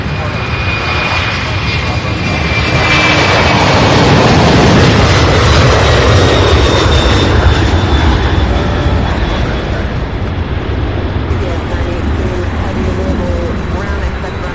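A UPS Boeing 767-300 cargo jet passes by an airport, a loud broadband engine roar that swells to a peak and then slowly fades, with a steady rumble throughout.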